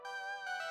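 A brighter Omnisphere bell synth layer holds one sustained, shimmering tone with stacked bright overtones, quiet and steady, with no voices.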